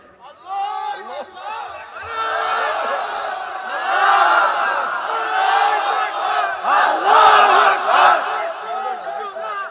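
A large crowd at a nighttime Islamic religious gathering (waz mahfil) chants takbir in unison, many voices rising and falling together in loud, sustained waves that build in intensity toward the end.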